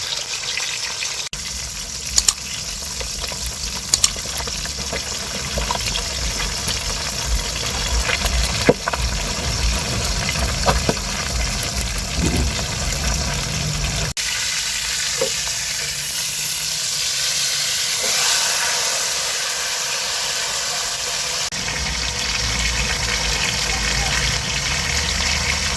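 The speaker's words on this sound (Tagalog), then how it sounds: "iprito muna natin ang ating bangus" Milkfish (bangus) frying in a pan for sisig, a steady broadband sizzle running continuously with faint occasional clinks and shifts in intensity, no voices over it.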